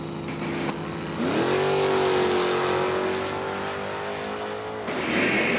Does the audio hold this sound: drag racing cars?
yes